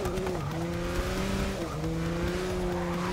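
Audi race car at Le Mans in Forza Motorsport 6, its engine holding a loud, steady high-revving drone that dips briefly with gear shifts around half a second and again near 1.7 seconds, tire squeal mixed faintly in.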